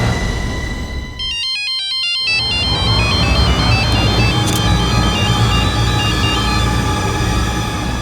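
A loud electronic phone ringtone plays a looping melodic pattern, starting abruptly and continuing over a dense, droning background.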